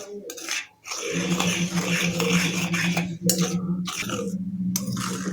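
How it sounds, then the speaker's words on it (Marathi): Sifted dry ingredients for a homemade chocolate cake being stirred together in a bowl, a steady scraping and clinking of a utensil against the dish that runs continuously with brief pauses, close and fairly loud. "सर्व साहित्य चाळून घेतलेलं आहे आता हे व्यवस्थित मिक्स करायचं"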